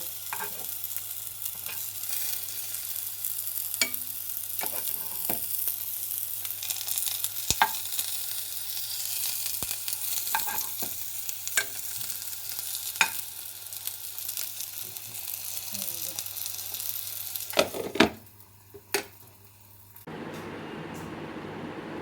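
Boneless hilsa patturi frying in a pan just after being flipped, a steady close sizzle with occasional clicks and scrapes that cuts off and changes character near the end.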